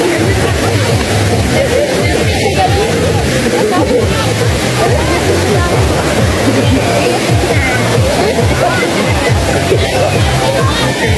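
Wang Kan Lueang waterfall in Lopburi, Thailand, pours in a loud continuous roar of rushing, splashing water, with a crowd of visitors faintly murmuring beneath.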